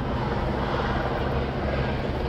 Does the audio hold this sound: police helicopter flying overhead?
yes